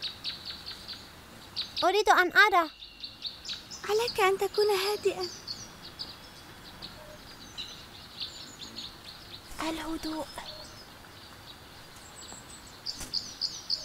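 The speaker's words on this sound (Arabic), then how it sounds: "الآن نحن هادئون، يمكننا سماع العصافير." Small birds chirp in short, scattered high tweets around an outdoor bird feeder, faint and intermittent, while children and an adult speak quietly over them at times.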